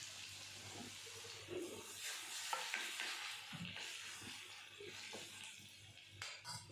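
Cumin and garlic sizzle in hot oil in a pan for a Shimla mirch bhaji, with a soft continuous frying hiss and occasional stirring scrapes, fairly quiet and close.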